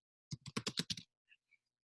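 Quick burst of about eight close keystrokes on a computer keyboard, clattering in a rapid run, followed by two faint isolated clicks in otherwise silent surroundings.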